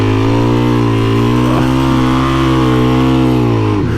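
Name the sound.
Suzuki DRZ400E motorcycle engine revving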